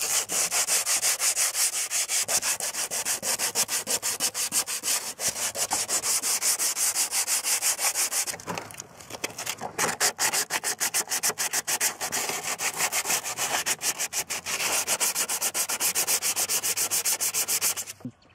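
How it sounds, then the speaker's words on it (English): Steady hand sanding of a cracked plastic pocket bike cover, a dense, hissing rasp of rapid back-and-forth strokes that runs almost continuously with one brief pause midway. "I'm gonna sand it down first, rough it all up"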